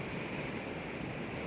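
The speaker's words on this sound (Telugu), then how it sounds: "తుఫాన్ ఇలాగ వస్తుందండి" A monsoon storm in Paderu's Paderai village brings steady, roaring storm wind, a continuous broadband rush buffeting the microphone without pause.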